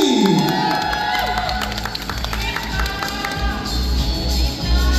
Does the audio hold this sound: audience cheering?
yes